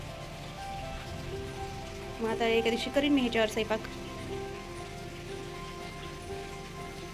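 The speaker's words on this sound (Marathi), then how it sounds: "पाऊस तर मस्त येऊ लागले." Heavy rain falls steadily, a constant close hiss on surfaces, while someone talks over it for a few seconds in the middle.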